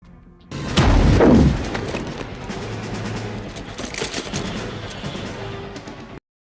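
Flashbangs and gunfire in a 1998 hostage-standoff film fight scene: a heavy loud boom near the start, followed by a dense, sustained rumble of shots and crashes continuing for several seconds.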